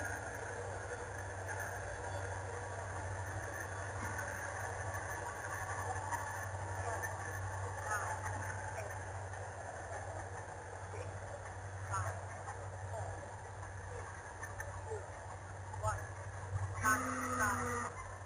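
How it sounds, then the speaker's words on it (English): A train passes a club flying field in the morning during a Techone Lazy Flyer flight, a steady distant low rumble and hum running throughout, with a faint voice and small knocks near the end. "The noise of the train is really bothering me."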